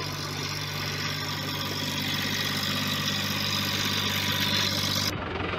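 An Eicher 551 tractor engine runs a pug mill at a brick kiln, giving a steady, close idling drone with a low hum. The engine sound cuts off abruptly near the end.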